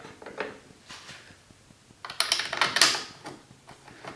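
A long bolt threaded into a motorcycle reflector assembly on a Kawasaki Concours 14 1400GTR and tightened down: soft, close metallic clicks and ratcheting ticks, quiet at first, then a brief busier burst of tool rattling.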